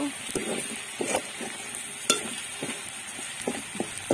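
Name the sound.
onions and chicken frying in a pan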